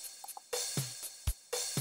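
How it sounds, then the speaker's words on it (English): A sparse drum pattern: offbeat snare hits and low kick thumps alternating with sharp click ticks, fairly loud and alone. "now you're hearing the snare drum on an off beat"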